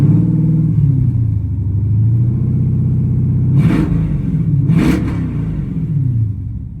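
A cammed Jeep SRT8 with straight pipes sits at a loud, choppy lumpy idle, then blips twice in quick succession with sharp revs before dropping back to its rough rumble, close and alone.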